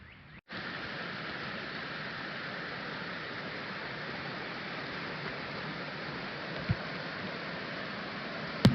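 A fast-running, muddy stream rushes with a steady, close, broadband wash that never lets up, heard alone with no voices.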